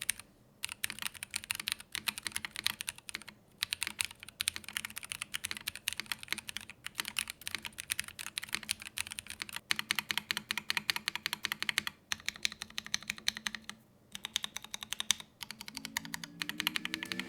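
Fast, steady typing on a mechanical keyboard, close and crisp, with dense clicky keystrokes and a few brief pauses, no voices.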